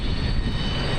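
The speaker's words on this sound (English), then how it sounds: "For the first time in years, a Frontier Airlines plane touches down in Billings today." Frontier Airlines passenger jet touching down at Billings airport on an inaugural flight from Denver, a steady, loud engine roar filling the whole moment without pause.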